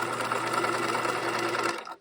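A sewing machine stitches the waistband of a pair of shorts, a steady close-up run of rapid mechanical whirring that holds even and then winds down and stops near the end, with no talking.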